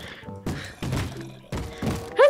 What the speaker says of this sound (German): Ich wollte doch nur ein paar Laternen aufstellen. Hörst du, wie die alle rumscheppern?